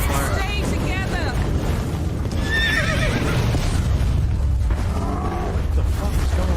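A horse whinnies repeatedly while on fire amid a dense, noisy scene in The Witcher 3, with rumbling and clattering, loud and busy throughout.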